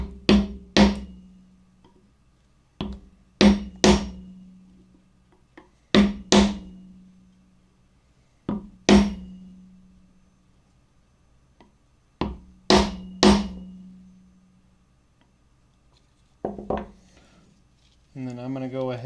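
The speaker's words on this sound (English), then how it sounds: "Take a block of wood here with a hammer just to get it set in place." A hammer knocks on a wood block in sharp pairs of hits, setting an abalone inlay in a guitar fretboard, repeated at steady intervals close by, with a brief voice at the end.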